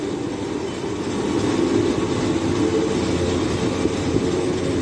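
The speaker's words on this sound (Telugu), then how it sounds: "train is entering into Bharuch junction" Train No. 20967 from Secunderabad to Ahmedabad rolls slowly into Bharuch junction, heard from inside the coach as a steady, loud low rumble of wheels and carriage noise with no break.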